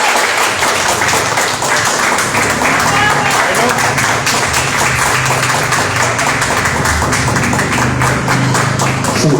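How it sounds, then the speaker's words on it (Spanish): Audience applause after a talk at a river-themed panel discussion, steady dense clapping filling the room for the whole stretch, with a voice speaking over it. "Un aplauso, por favor."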